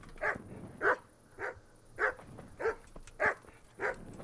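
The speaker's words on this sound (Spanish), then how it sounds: "Joder, el perro, qué mala hostia" A dog in the medieval video game Kingdom Come: Deliverance barks seven times in a steady, evenly spaced rhythm, each bark sharp and fairly close, with no talk over it.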